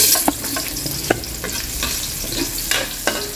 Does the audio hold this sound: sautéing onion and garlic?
yes